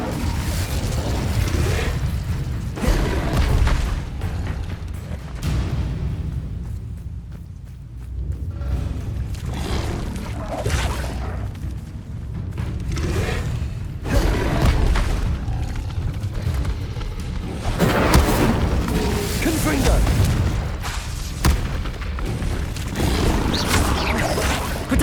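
Confringo and Incendio spells going off in Hogwarts Legacy, repeated booms and fiery bursts spread over a long stretch of steady, busy combat noise, with little talk.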